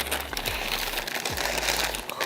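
Butcher paper slicked with grapeseed oil is crumpled by hand into a ball, giving a steady, close crinkling and rustling that runs continuously for a couple of seconds with no talking.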